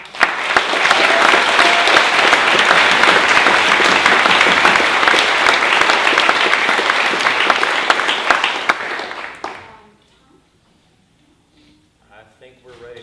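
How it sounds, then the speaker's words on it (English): Loud, sustained applause from a large theatre audience before a performance of Measure for Measure, lasting about nine seconds, then cutting off abruptly into near silence with a few faint sounds. "let's please give a round of applause"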